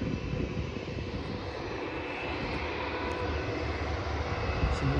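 An airplane passes overhead as a steady broadband engine drone, moderately loud and continuous throughout, without talking.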